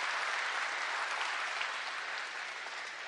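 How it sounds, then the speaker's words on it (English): Factory workers at a Michigan manufacturing plant clapping in sustained, even applause from a crowd heard at a moderate distance, with no speech over it. "Let's give a round of applause to the people who are making the engine of America getting up and going."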